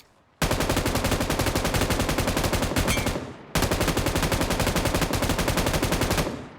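Loud, rapid automatic gunfire in the PUBG Mobile battle royale game, two long sustained bursts of steady repeated shots with a brief pause between, close and dominant.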